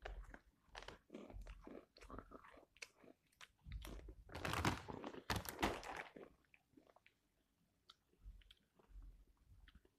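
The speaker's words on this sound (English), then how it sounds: "Old El Paso tortilla chips" Old El Paso tortilla chips crunched between the teeth, a close series of sharp, irregular bites and chews that build to a louder burst of crunching in the middle before trailing off into softer chewing.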